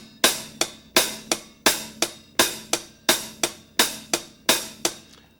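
Drum sticks play steady eighth notes on a closed hi-hat, tip strokes on top of the cymbal alternating with louder accented hits, crisp and close in an even repeating rhythm with no talking.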